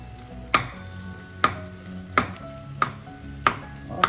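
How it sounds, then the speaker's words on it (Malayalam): Prawns and small onions are stirred in a pan, with a spoon or spatula scraping and knocking against the pan about six times at a steady pace over a soft background sizzle. "എല്ലാം കൂടെ നന്നായി ഒന്ന് മിക്സ് ചെയ്യാം."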